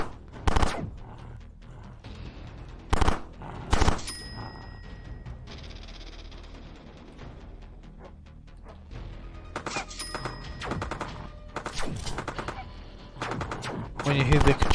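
Repeated gunfire from a weapon in the Xbox One game Time Carnage, sharp bursts and short rapid volleys spread across the stretch, loud and close, with a sustained tone and game effects in between.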